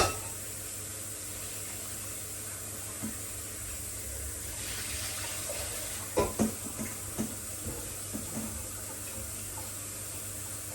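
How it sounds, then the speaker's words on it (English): Tap water runs over cooked bean sprouts in a kitchen sink, a continuous rushing splash with a few louder knocks and clatters midway, and no one speaks. "I'm just gonna pour water, just to stop them from cooking still."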